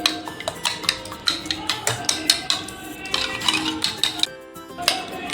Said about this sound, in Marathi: चमच्याने चांगलं फेटून घेऊ पहिले